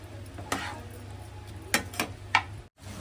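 Ivy gourd (tindora) frying in a pan, a quiet steady sizzle broken by a few brief scraping stirs and clinks of a spoon against the pan, heard close up and alone without talking.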